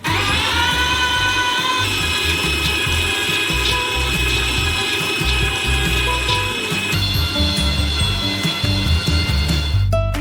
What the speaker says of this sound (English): We transfer them into a meat grinder. And grind them through a small nozzle.